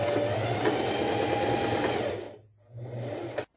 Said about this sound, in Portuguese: eu vou passar uma costurinha de segurança.